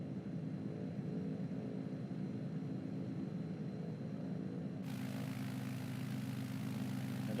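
Steady propeller aircraft engine drone from the cockpit of a bush plane in Microsoft Flight Simulator 2020, continuous and fairly loud, its tone shifting partway through as the throttle changes, with no talk.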